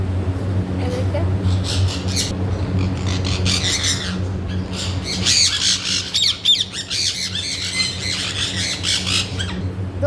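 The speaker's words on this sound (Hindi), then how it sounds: "दोस्तों ये हमारे पास सनी कनौर है।" Sun conure parrot squawking in a bird breeding setup, a run of loud, harsh, repeated screeches that grow busier midway, over a steady low background hum.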